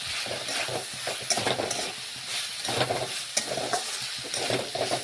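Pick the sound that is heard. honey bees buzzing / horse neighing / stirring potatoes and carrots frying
stirring potatoes and carrots frying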